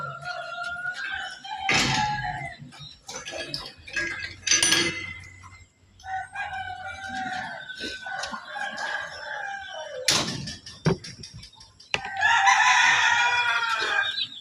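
Chickens and a rooster on a working farm, with repeated loud crowing and clucking near the listener, bursts spread throughout amid general yard noise.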